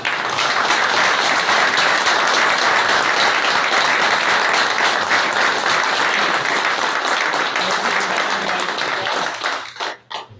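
Audience applause fills the room at an East Cocalico Township Board of Supervisors meeting, a dense, steady clatter of many hands that carries on evenly before thinning out and stopping near the end.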